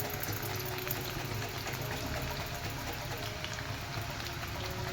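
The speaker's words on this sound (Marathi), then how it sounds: "बघा, माझं तेल चांगलं गरम झालेलं आहे. मी आता याच्यामध्ये वेपर्स पाडून घेते." Raw banana slices frying in very hot oil, a steady, dense sizzle and crackle held at a moderate level with no pauses, heard alone.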